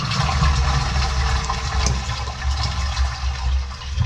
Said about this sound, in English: We need to flush the excess water in this bowl out.